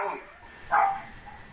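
One sharp bark from a dog indoors cuts through low background noise midway, with a fainter yip just before it.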